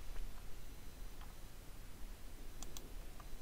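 Typing on a computer keyboard, a run of quiet, irregular key clicks under faint room noise with no speech.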